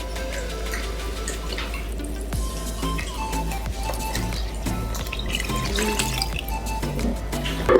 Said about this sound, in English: Now I'm gonna pour in some water in the bean.